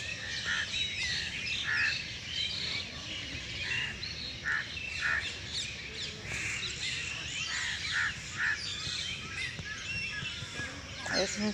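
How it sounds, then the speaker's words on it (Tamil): Crows and other birds calling outdoors during a walk, with repeated caws and chirps scattered across the scene at moderate distance, overlapping one another over a soft background hiss. "இந்த இடத்துல நிறைய பறவைகள் இருக்குது"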